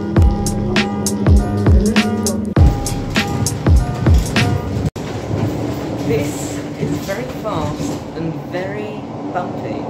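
Cabin noise inside a moving Merseyrail train, a steady rumble with rhythmic clacks over rail joints in the first half, then smoother running with squeals and rattles; a voice talks over it throughout.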